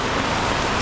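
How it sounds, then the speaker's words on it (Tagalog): Heavy rain pours down in a loud, steady, dense wash of noise, continuous and close, with no voices. "pagkakalakas ng ulan"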